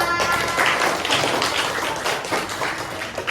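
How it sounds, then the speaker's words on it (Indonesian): A dense burst of applause from a sixth-grade class, steady and fairly close, with many overlapping hand claps throughout. "beri tepuk tangan untuk kelompoknya Akila"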